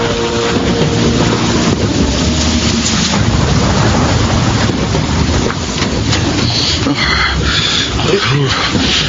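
Heavy rain pours down in a steady, loud, dense wash that fills the whole scene, with voices heard under the downpour.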